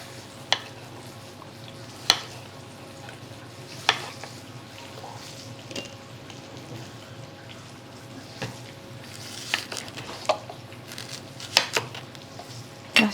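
Onion and tomato frying with garlic and shallots in a pan, a low steady sizzle broken by sharp clicks and taps of a utensil against the pan at irregular intervals.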